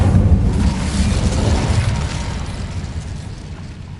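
The Incendio fire spell cast in Hogwarts Legacy, a loud roaring whoosh of flame with a deep rumbling low end that starts at full strength and slowly fades over about four seconds.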